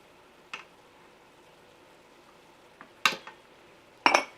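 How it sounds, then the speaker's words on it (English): A spoon stirs beef and bean chili in a pressure cooker, giving a few soft scraping, sloshing strokes, one early and two louder ones near the end, close by with no talk. "Give this all a good stir."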